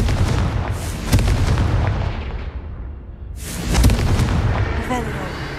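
Blasting-curse explosions from a wizarding action video game go off in heavy, booming bursts, one near the start and another surge around the middle, each rumbling loud and close before tailing off into crackling debris.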